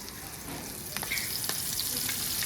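Masala-marinated chicken feet sizzle and crackle in hot oil, a dense, loud frying hiss with scattered sharp pops and spatters that grow slightly busier toward the end.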